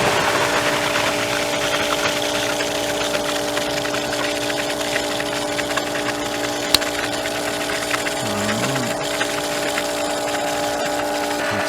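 A pool sand filter pump (Rx Clear Radiant 24-inch) runs during backwash, a steady loud motor drone with a constant hum and rushing water, continuous throughout.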